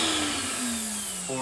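A central vacuum cleaner in a 2022 Forest River No Boundaries NB20.4 RV runs with a hose attached, a steady close whirring hum with a slight drop in pitch.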